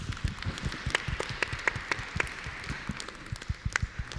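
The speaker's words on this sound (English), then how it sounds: "Please give a round of applause to them" An audience applauds panelists at the close of a blockchain discussion panel at the Infoshare 2019 tech conference, with a steady patter of many hands clapping at a moderate, slightly distant level.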